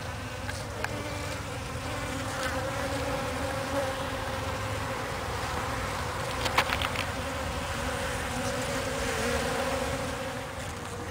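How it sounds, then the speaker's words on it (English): A steady, dense buzz of many bees and flies swarming around flowering flying saucer cactus blooms on a morning, continuous and fairly loud throughout with no talking. "There's a buzz fest this morning."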